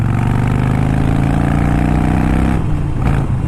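A 2018 Harley-Davidson Sportster 1200 Iron motorcycle accelerates hard in third gear, its loud, close engine roaring steadily with a rising rumble that drops off near the end.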